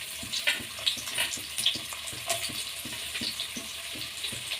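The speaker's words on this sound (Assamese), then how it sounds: "মই পিঁয়াজখিনি দি দিছোঁ" Onions frying in hot oil in a wok, a steady close crackling sizzle dotted with irregular pops and stirring scrapes throughout, moderately loud, no voices.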